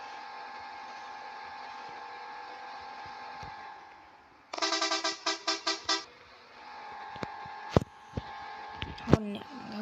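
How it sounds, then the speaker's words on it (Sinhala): A car horn honks in a quick burst of about six short toots, loud and close, rising over a humming background, followed by scattered clicks and knocks. "හෝන් එක ගහුවා ඉතින්."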